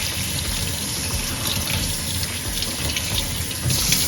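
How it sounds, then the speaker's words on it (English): Tap water runs steadily into a sink to rinse out a lobster, a continuous close hiss and splash that holds at an even level throughout without talk. "Just going to get the water running."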